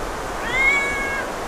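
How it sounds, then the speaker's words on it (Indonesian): A cat meows once, a drawn-out mid-pitched cry rising and fading over about half a second, close by at a roadside eatery serving grilled chicken, with a steady background hum throughout. "Ada si Meong guys, lagi makan, nyamperin dia nih."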